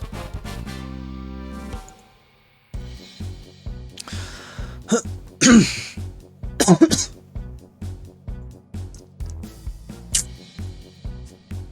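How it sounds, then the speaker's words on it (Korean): A man coughs repeatedly in short bursts and clears his throat close to the mic while a Battle Cats mobile game plays rhythmic music and effects underneath. "계속 기침이 나네"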